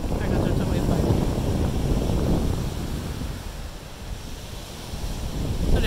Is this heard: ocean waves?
yes